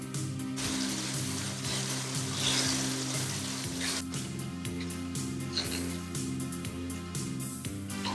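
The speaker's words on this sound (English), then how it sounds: "My chicken has seared on all sides." Steady sizzling and crackling of chicken searing in a hot frying pan on high heat, with occasional sharper pops and spatters over a low background hum.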